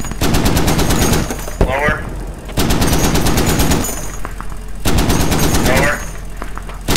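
Heavy machine gun fire from an HMMWV in a video game set in Al Basrah, loud sustained bursts of rapid rounds repeating three times, with a voice giving directions over the firing.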